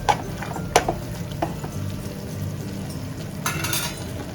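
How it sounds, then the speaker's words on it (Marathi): Poppy seed curry paste sautéing in a pan for Maharashtrian khas khas bhaji, a low steady sizzle with a few sharp spatula scrapes and clinks near the start and a brighter stirring burst toward the end. "छान परतून घेऊ."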